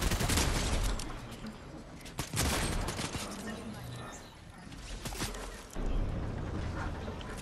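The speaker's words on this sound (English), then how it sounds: "I'm getting shot at." Rapid gunfire bursts in a multiplayer squad video game, loud and dense with repeated volleys, under excited players talking.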